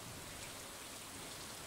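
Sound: rain falling in video game Stardew Valley Expanded

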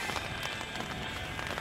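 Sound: rain or sleet falling outdoors

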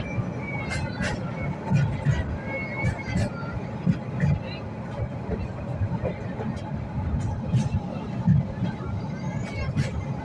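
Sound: train slowing down

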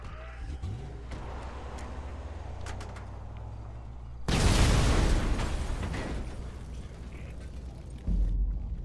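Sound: explosion in the video game Grand Theft Auto V

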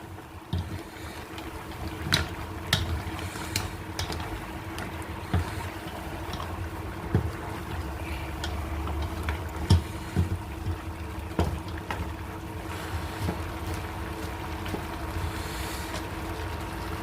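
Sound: goat meat frying in a pan

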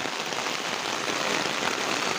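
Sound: rain

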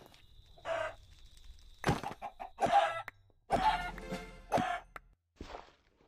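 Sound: chickens clucking in video game Minecraft

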